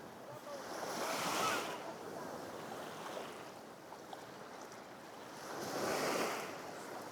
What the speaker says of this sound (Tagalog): Malakas lang yung alon.